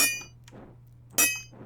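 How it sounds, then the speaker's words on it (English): A Tinker's hammer in the Minecraft modpack Enigmatica 2 strikes twice, each a bright metallic clang ringing briefly over a low steady hum, spaced about a second apart. "Tinker's hammer."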